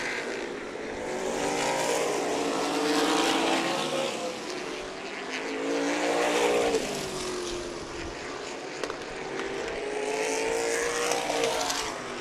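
Supermodified race cars scream around Meridian Speedway in a rising and falling roar, their engines swelling loudly as they pass in waves, then fading before the next pack arrives.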